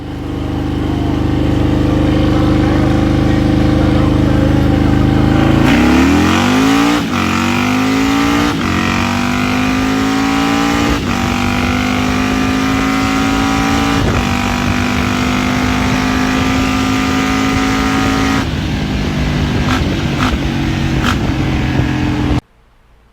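A hot-rod Harley-Davidson motorcycle revs hard and loud, then climbs through gears shifted without the clutch, each upshift marked by a quick dip and rising engine pitch, running continuously up close before cutting off.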